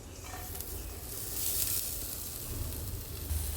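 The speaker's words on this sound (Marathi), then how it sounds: "आतां न्हू हो हांव फ्राय करता सोय आनी आनियन बरो लायट गोल्डन ब्रावन करता" Onion frying in a hot pan with coconut for a Goan crab curry, a close, steady hissing sizzle that swells briefly in the middle.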